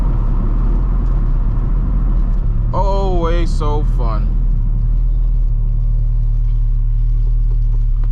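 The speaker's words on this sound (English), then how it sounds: "The way the car just is just so damn rowdy" A 600 HP built turbocharged Honda Civic Si heard from inside while driving, its engine a steady low rumble throughout, with someone speaking briefly over it.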